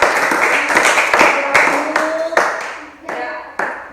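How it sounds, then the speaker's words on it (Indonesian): Hands clapping in a classroom during a physical education lesson, a group applauding briefly then thinning to a few scattered, sharp individual claps near the end, with faint voices underneath. "Tepuk tangan dulu."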